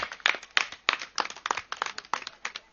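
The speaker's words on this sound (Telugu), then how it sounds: "గట్టిగా చప్పట్లు కొడదాం." Steady rhythmic hand clapping from an audience at a spiritual gathering at a pyramid meditation centre, a dense run of sharp claps sounding close and loud with no talk.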